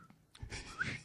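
A person whistles a short, chirpy birdsong imitation, a few rising and falling notes with some breathy air, close and fairly quiet.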